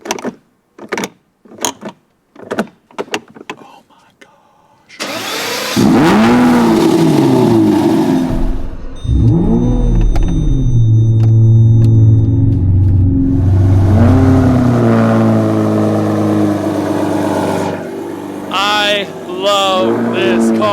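A Lamborghini SV engine revs hard and very loud close up, a sustained roaring blast with rising and falling pitch lasting about fifteen seconds, after several short sharp bursts at the start; no talking over it.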